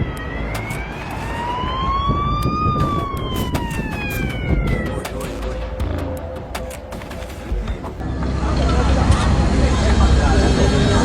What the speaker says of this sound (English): Emergency teams sounded sirens to alert residents